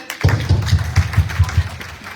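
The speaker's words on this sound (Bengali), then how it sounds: "তাদের জন্য করতালি দেন" An audience at a DXN leadership summit in Bangladesh claps for star agents in a quick, even rhythm of hand claps. The claps are fairly close and loud and start abruptly.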